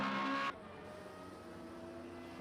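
Formula Renault race car engine in Project CARS at Zhuhai, a steady droning whine that drops abruptly in pitch and loudness after half a second as the car passes, then holds a lower hum.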